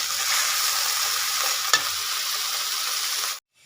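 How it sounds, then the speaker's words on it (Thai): Thai-style stir-frying in a hot pan with fish sauce seasoning, giving a steady close sizzle throughout, one brief clank of a utensil partway, then a sudden stop. "แล้วก็ผัดผัดผัดผัดครับ"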